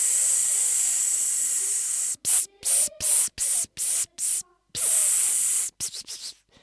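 Voice imitating a cat spraying, a loud breathy hiss that runs steadily and then breaks into a series of short rhythmic spurts, with no talk over it.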